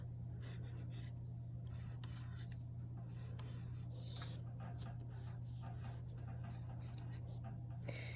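A pencil scratches and rubs across paper in quick, irregular strokes while drawing a shirt sleeve on a hand study, close and fairly quiet over a steady low hum.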